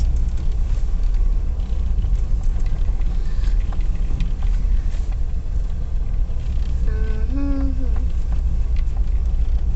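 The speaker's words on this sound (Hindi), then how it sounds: "अभी हम गाड़ी बैक कर रहे हैं" A car reversing slowly, its steady low engine rumble close and continuous throughout, with a brief tonal squeal or horn-like sound partway through.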